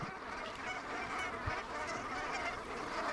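Released Brant geese honk as a flock in Chevak, Alaska, a dense chorus of overlapping calls heard continuously at moderate distance.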